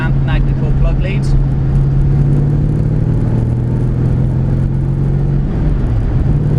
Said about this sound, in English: Engine pulls really nicely, it's smooth throughout the entire rev range.